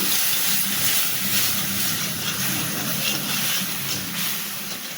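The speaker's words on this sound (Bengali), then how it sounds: "নুডলস সিদ্ধ করে রেখেছিলাম সেই জলটা এখন দিয়ে দিচ্ছি" Noodle-boiling water poured into a hot pan while cooking noodles with chicken gives a loud, steady hiss and sizzle that carries through the whole stretch without a break.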